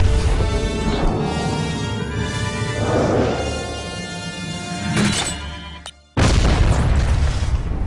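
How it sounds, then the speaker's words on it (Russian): A car explodes in a loud, rumbling blast with crashing debris that fills the scene, trails off, then cuts abruptly to another burst of noise. "Причина смерти. Взрыв автомобиля."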